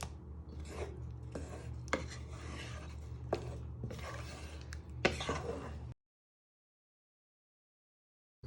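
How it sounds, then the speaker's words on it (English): A utensil scraping and stirring curried parsnip soup in a pan over medium heat, steady rough rubbing with a few sharper knocks against the pan, close and alone, then sudden silence. "you just want to carefully stir it all in"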